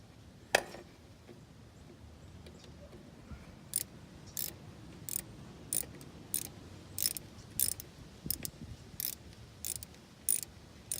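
Clamps being worked off a Ford 5000 tractor's power steering, giving a series of short, sharp metallic clicks and snaps at irregular intervals over faint background noise.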